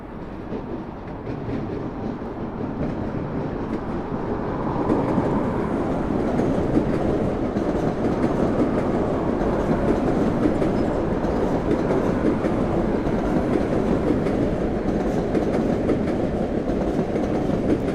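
A train rolls past in Long Island City, Queens, bound for Penn Station, its dense clickety-clack of rail wheels loud and steady throughout, close by, building slightly after the first few seconds with no voices.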